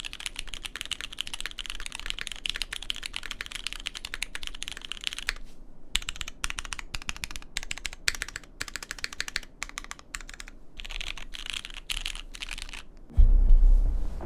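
Rapid typing on a mechanical keyboard with Cherry MX Brown switches on a polycarbonate plate: a dense stream of soft clacking keystrokes up close, with a brief pause midway and a low thump at the end.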